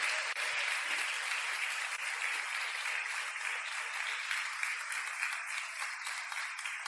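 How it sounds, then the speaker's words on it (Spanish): A church congregation claps steadily in a bright, even wash of applause lasting about seven seconds, moderately distant and without speech over it. "denle un aplauso fuerte al Rey de Reyes"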